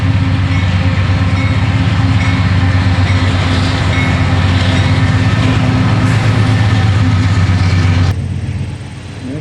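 Train rolling past a graveyard in Wisconsin, a loud steady rumble with rhythmic clatter of cars held close for eight seconds before it begins to fade.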